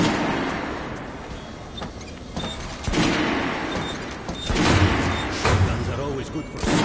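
Kalashnikov rifle gunfire in the first-person shooter Metro Last Light, with loud repeated shots and impacts over a dense battle din and voices talking.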